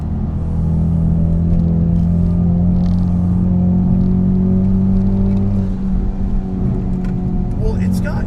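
A car engine drones loudly and steadily at a low pitch, with traction control switched off, holding a constant rumble with slight rises and falls as it drives. Someone speaks intermittently over it.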